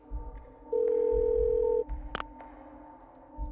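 An old telephone dial tone from the Parasite Eve II video game plays as a steady, clear tone for about a second over a low game ambience, and a brief ring-like chirp follows it.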